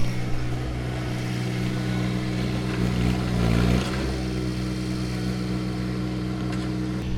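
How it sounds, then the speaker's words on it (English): Mini skid steer engine running nearby, a loud, steady low rumble with constant droning hum and a brief rise in revs midway, continuing without pause. "I told him he could get the mini skid steer with the bucket"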